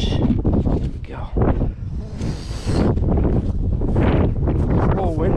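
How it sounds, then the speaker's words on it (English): Gusty, cold wind buffets the microphone with rumbling blasts while people talk nearby at beehives, the roar rising and easing in uneven waves. "It's a little windy."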